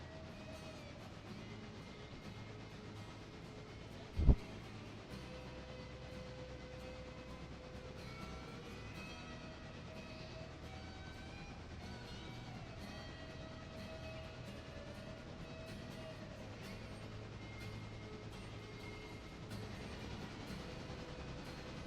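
A train in the game Railroader approaches with a continuous low rumble and rail clatter. Steady drawn-out tonal hums run through it, and one sharp clank comes early on. The whole clip stays fairly quiet and even.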